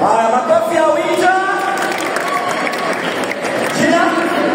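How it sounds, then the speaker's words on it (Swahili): A crowd of schoolchildren and audience claps and cheers for a participant, steady loud applause with whoops lasting the whole few seconds. "Haya, makofi ya Awinja."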